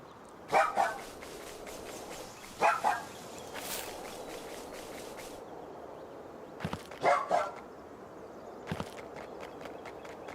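Short barks from a dog creature in the video game Palworld, faint and clipped, coming in quick pairs several times over a quiet ambient game backdrop with soft footstep-like taps.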